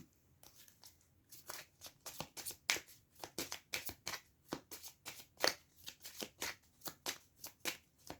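Tarot cards are shuffled and cut in a steady run of crisp, rapid riffling flicks, close and fairly quiet, with no talk over them.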